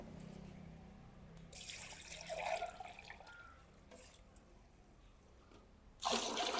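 Water poured from a jar onto potted bougainvillea plants, splashing in two bursts, a short spill early and a stronger gush near the end, over a quiet trickling background.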